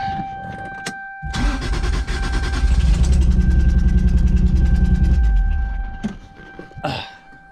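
A built 2JZ-GTE engine in a 1995 Toyota Supra cranks over on the starter during a compression test, a loud, steady rhythmic churning lasting several seconds before cutting off, with brief clicks before and after.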